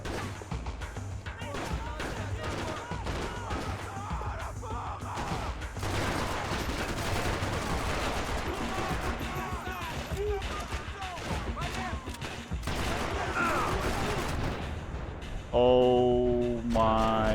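Gunfire in the Max Payne 3 video game, a dense and continuous barrage of shots and impacts running under excited talking, with a louder burst near the end.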